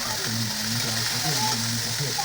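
Spiced chicken pieces hit hot oil with fried ginger and garlic, giving a steady, close sizzle with faint stirring scrapes and a sharp clatter right at the end.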